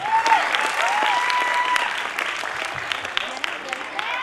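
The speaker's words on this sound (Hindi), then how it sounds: "जोरदार तालियां हो जाए प्लीज एवरीवन।" Audience applause at a dance academy's annual function, steady clapping throughout, with a voice over it early on that soon fades.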